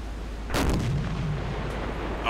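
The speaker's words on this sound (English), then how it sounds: "Engage with the deck gun." Deck gun on a submarine in Silent Hunter 4 fires a single loud, booming shot that rolls into a long rumbling tail, with no voices.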